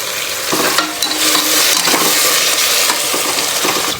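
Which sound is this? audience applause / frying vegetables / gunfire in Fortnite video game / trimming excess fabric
frying vegetables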